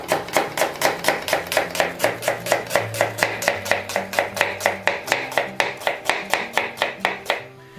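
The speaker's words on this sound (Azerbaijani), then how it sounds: "soğan da buradan başlayırsınız doğramağa" A knife chopping onion on a cutting board for Baku-style turşu qovurma plov, a fast, even run of about thirty crisp, close knocks that stops abruptly near the end.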